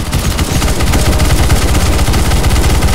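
Rapid automatic gunfire in CS:GO Zombie Escape, a loud, continuous stream of shots with a steady rattling rhythm throughout, no voices.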